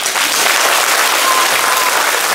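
Audience at a children's song show rubbing or clapping hands to imitate thunder, a dense, steady, loud wash of hand noise filling the whole stretch with no voices.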